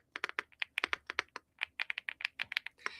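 Someone types on a Rainy 75 mechanical keyboard, with crisp, close clacks in quick irregular bursts, a brief pause midway, and no voices.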